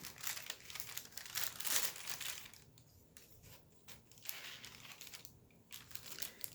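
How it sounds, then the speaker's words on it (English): Wax paper crinkles and rustles as it is handled over a glued journal page, with dense crackling bursts near the start that thin out into softer, intermittent crumpling. "let's see how wax paper looks over this"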